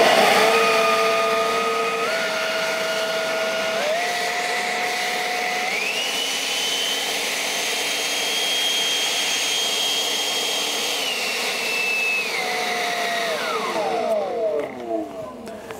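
DeWalt FLEXVOLT brushless cordless leaf blower (DCMBA572X1) running close and loud, its whining tone stepping up and down as the power is adjusted, then winding down at the end.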